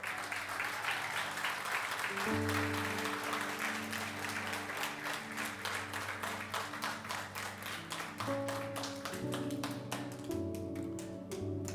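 A church congregation claps together during a celebration service, with steady, dense applause running throughout and sustained keyboard or organ chords sounding beneath it.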